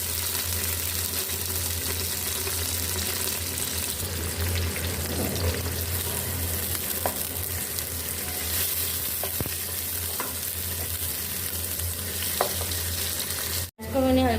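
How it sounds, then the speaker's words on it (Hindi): Chopped onions fry in hot cooking oil for a lauki gosht curry, a loud, steady crackling sizzle that fills the whole stretch with occasional pops and light stirring, heard alone. "अब इसमें हम प्याज डाल लेंगे और प्याज को हमने फ्राई कर लेना है।"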